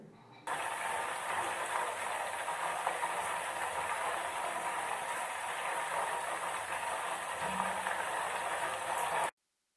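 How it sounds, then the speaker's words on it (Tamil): Butter boiling into ghee in a pan gives a steady, dense crackling and sizzling, continuous and fairly loud, with no voices, ending abruptly. "கொதிக்கிற சவுண்ட் கொஞ்சம் கம்மியான உடனே நெய் ரெடி ஆகிடும்"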